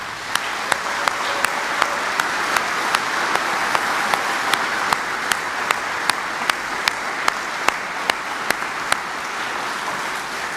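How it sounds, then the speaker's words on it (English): Guests at a July 2022 Department of the Army retirement ceremony keep up a steady round of applause for Army families, with a sharp, regular ticking repeating through it. "Please join me in a round of applause for our Army families."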